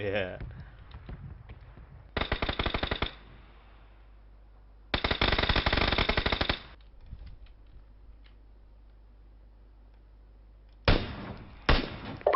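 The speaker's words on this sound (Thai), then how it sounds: "ปล่อยเขายิงกันไปก่อนครับแล้วเราค่อยเก็บเขาทีหลัง" Automatic gunfire from players shooting each other in PUBG, sounding as several sustained bursts at mid distance separated by quiet stretches, with a low steady hum underneath.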